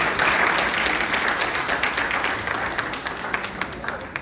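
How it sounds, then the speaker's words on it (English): An audience breaks into a big round of applause, dense sustained clapping that starts loud and slowly tapers off over a few seconds, with a voice faintly underneath. "one big round of applause for yourself"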